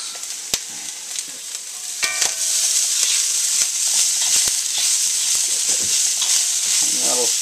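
Chopped onion sizzles and fries in a hot pan for quick leftover fried rice, a steady loud crackle with a few sharp stirring clacks of a utensil against the pan.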